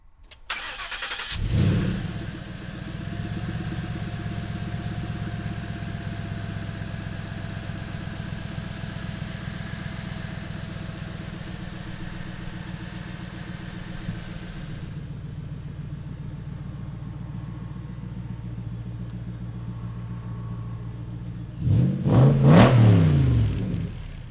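A 1965 Shelby Cobra Factory Five replica with a Ford Coyote V8 cranks and fires, then holds a loud, steady idle close by for about twenty seconds before a sharp burst of revving near the end.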